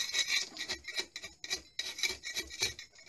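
Scraper rasping loose paint and filler off a water-stained ceiling, a steady series of short rough strokes in uneven rhythm, close and fairly quiet, with no talk.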